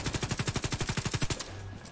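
Rapid automatic machine gun fire in The Division 2, a steady burst of about a dozen evenly spaced shots lasting over a second, loud and close, then cutting off to quiet game ambience.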